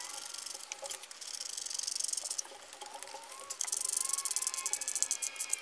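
A hand ratchet tightens the bolts on a Legmaker intake being fitted to a 2021 Dodge Charger Redeye, producing nearby rapid clicking bursts that repeat in uneven runs, growing louder and more rhythmic toward the end.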